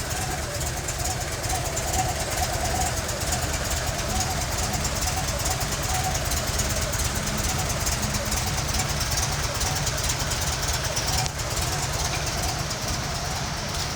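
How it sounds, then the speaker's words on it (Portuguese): A 1972 Volkswagen Variant engine idles steadily and smoothly throughout, a constant low rumble close by, while someone talks over it. "É um motor bem estável."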